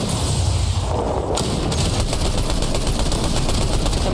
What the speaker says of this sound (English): Ooh, my business turret.